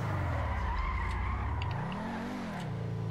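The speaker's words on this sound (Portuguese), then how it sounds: "deixa eu ver se eu posso estacionar o meu carro" A car in GTA V being maneuvered to park: a steady engine hum that rises and falls as it turns, with a tire squeal partway through, close and continuous with no talking.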